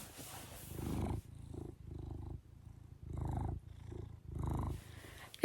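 A house cat named Murphy purrs up close, the low rumbling purr rising and falling in a steady rhythm of about five long cycles, loud and alone with no talk.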